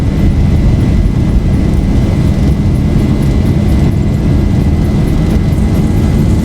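A Boeing 737 in the X-Plane 11 flight simulator roars steadily at takeoff thrust, a loud continuous low engine rumble with a faint high whine, unbroken throughout.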